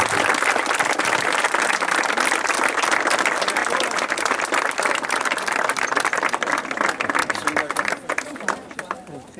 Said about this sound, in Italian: Vi chiedo un grande applauso per tutti i lavoratori di imprese e coloro che hanno lavorato.